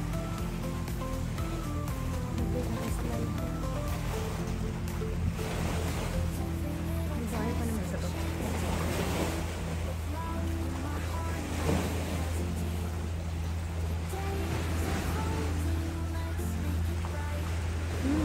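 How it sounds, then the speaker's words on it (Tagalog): Rough sea waves wash and churn in a continuous, fairly loud roar, with a low steady droning hum underneath throughout. "Maalon."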